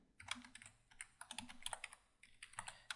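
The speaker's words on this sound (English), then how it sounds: "let's just type this one out" Quiet typing on a computer keyboard, light clicking keystrokes in an uneven rhythm with brief gaps, faint and close, no voices present.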